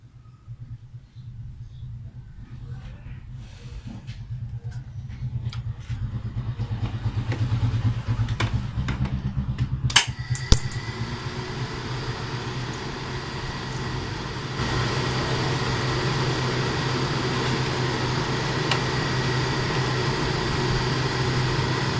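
Car engine idling steadily with the air conditioning switched on, while an idle-up fault makes the idle drop; a low continuous hum with a few sharp clicks midway, then a slightly louder, fuller drone as the compressor load comes in.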